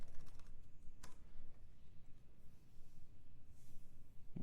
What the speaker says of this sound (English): I'm sorry, I was typing.